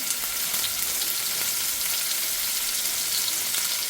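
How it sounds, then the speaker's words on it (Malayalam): Onions dropped into hot oil with mustard seeds sizzle in a pan, a steady, dense frying hiss that stays close and even throughout with no voices. "കുറച്ച് നല്ല ചൂടായ എണ്ണയാണ്. കുറച്ച് സവാള ഇട്ട് വെക്കാം."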